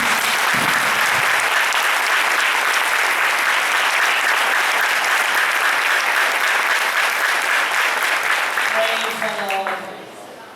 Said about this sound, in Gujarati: ખૂબ જ આનંદથી જોરદાર તાળી પ્રભુ